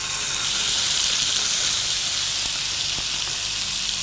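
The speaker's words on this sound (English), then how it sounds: "So we're going to turn the temperature down to about medium, just a little bit, and then ready to put the steak in." Beef steak sizzling in a hot pan over medium heat, a steady loud hiss and crackle throughout with no talking.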